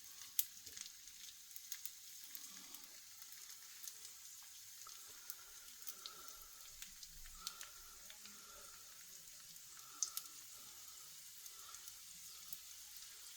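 Faint, steady sizzling of chicken gyoza frying in a pan, with scattered small pops and crackles throughout and no voices.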